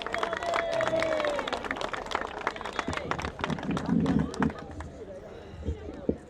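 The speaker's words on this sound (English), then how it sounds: "Let's give a round of applause for Johnny Quispe" At an outdoor park dedication in Paterson, New Jersey, an audience breaks into dense, close clapping that goes on for several seconds and then thins into scattered claps, with crowd chatter and a few voices underneath.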